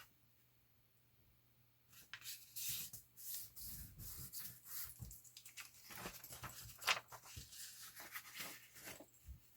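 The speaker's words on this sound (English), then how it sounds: "So fold it in half." Paper book page being folded in half by hand, a run of close, crisp rubbing and creasing sounds with short scraping strokes, alone without talk.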